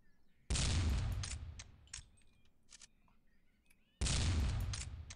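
Two loud, close shotgun blasts from a skeet shooting video game, about three and a half seconds apart, each with a sharp crack and a ringing, slowly fading tail.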